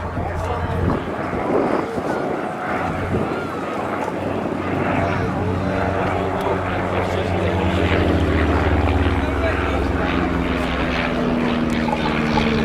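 A de Havilland Chipmunk propeller aircraft flies past at the Cosford airshow, giving a steady, sustained engine drone with a droning propeller hum that rises slightly in pitch toward the end, mixed with wind buffeting and a commentator talking.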